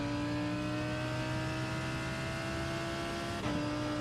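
A GT3 race car engine in the iRacing sim holds a steady, sustained drone with strong harmonic tones, a near and continuous note that shifts slightly around three and a half seconds in, heard alone without talk.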